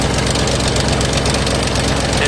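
A 2008 Ford Mustang GT V8 idles with a rapid, rhythmic engine knock tapping steadily over the dense, loud mechanical rumble throughout.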